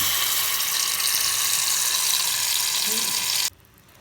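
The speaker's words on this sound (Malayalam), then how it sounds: "ചൂടായ നെയ്യിലേക്ക് നമ്മളിപ്പോൾ നേരത്തെ ഉണ്ടാക്കി വെച്ച നീരും ഒഴിച്ച് കൊടുക്കുന്നു" Orange juice poured into hot ghee in a frying pan, a steady bright sizzle with watery hiss that runs close and loud for about three and a half seconds, then cuts off abruptly to near silence.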